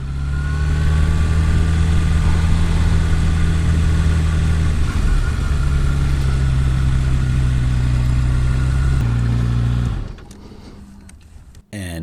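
A 2021 Harley-Davidson Sportster S engine rumbles loud and close with a steady low idle throb for about ten seconds, then cuts off abruptly, leaving quieter background noise.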